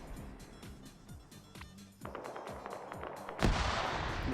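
Gunfire in the military game Arma: rapid repeated rifle and automatic bursts, sharp rhythmic cracks that build louder and denser midway, with a heavy burst near the end.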